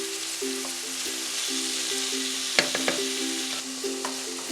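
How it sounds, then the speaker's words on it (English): Mushrooms simmering and sizzling in a pot as a steady, fairly quiet bubbling hiss, with a few light clicks and taps of a utensil against the pot. "We're going to leave the mushroom for a few minutes to just soak right through and cook."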